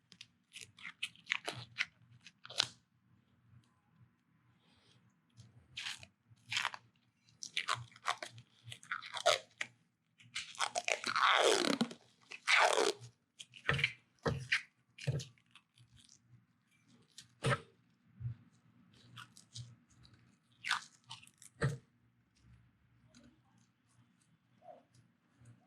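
Plasti Dip coating being peeled by hand off a Kawasaki Vulcan S 650 motorcycle, close crackling rips and tearing bursts in scattered clusters, with one longer stretching peel in the middle, otherwise quiet.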